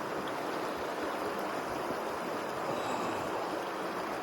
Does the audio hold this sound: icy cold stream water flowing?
yes